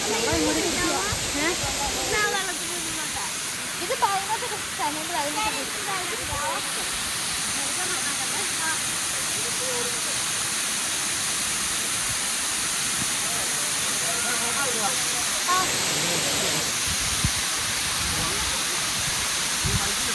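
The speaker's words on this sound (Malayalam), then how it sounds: "നല്ല രീതിയിൽ എറിച്ചിലടിക്കുന്നുണ്ട്. ഇവിടെ വന്നു കഴിഞ്ഞാൽ ഫുള്ളും നനയുന്നുണ്ട് കേട്ടോ." The Aruvichal waterfall at Poonjar, surrounded by rubber plantations, rushes and throws spray in a continuous loud roar and hiss, with voices talking nearby over the steady water.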